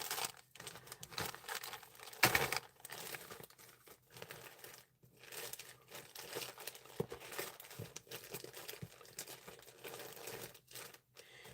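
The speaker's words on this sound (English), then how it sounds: "Gonna be rustling through all these bags" Plastic bags crinkle and rustle as jewelry is rummaged through, continuous close handling noise with irregular louder crackles and no talking.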